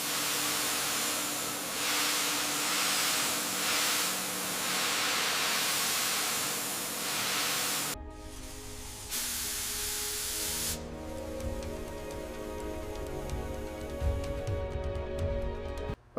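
A steady spray of water rinses grimy, degreased suspension arms from a 1953 Mercedes-Benz 170VB, a continuous hiss that shifts in tone partway through as the stream hits metal differently, with no talk.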